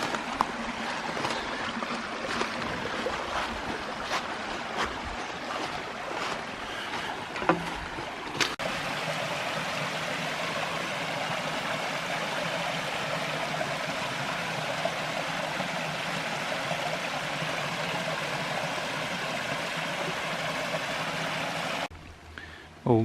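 A cascade on a forest stream in Bankhead National Forest, Alabama, pouring as a steady broadband rush of water, with a few knocks and handling bumps early on.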